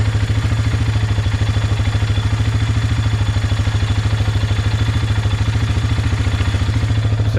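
A quad bike engine idles close by, a loud rapid steady putter with even mechanical clatter, running unchanged throughout with no talking.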